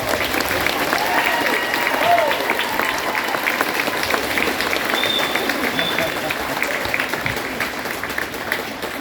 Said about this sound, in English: So give them a round of applause for making this.